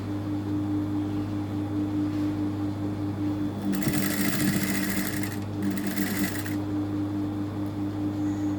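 A sewing machine stitches a zipper chain onto a garment in two short bursts of rapid, close mechanical buzzing over a steady background hum, the first burst longer than the second.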